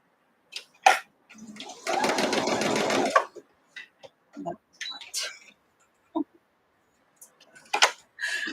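A sewing machine stitches quilt pieces for a London Roads variation block in a steady, fairly loud run of about a second and a half, with someone talking softly before and after it.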